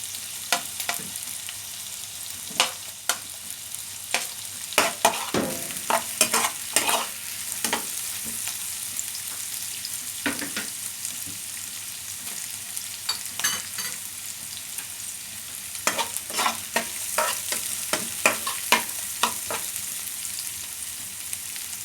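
Garlic sizzling and frying in a pan while being stirred for pancit bihon, with steady crackle broken by repeated sharp scraping strokes of a spatula, close and fairly loud, no talking.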